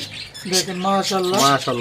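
A large parrot gives loud, drawn-out squawks, harsh and close, in a rising and falling series.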